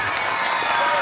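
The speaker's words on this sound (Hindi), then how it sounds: "जोरदार तालियों के बीच फादर का स्वागत करेंगे" A brief burst of dense applause from a school crowd at a Children's Day event, many hands clapping together loudly with a faint cheer mixed in.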